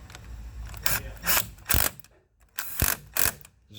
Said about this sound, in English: This is just an impact driver